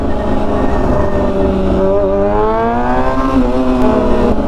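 A 2009 Kawasaki ZX6R motorcycle revs loudly and close by, its engine note climbing and sliding in pitch through several steady rises over a constant roar.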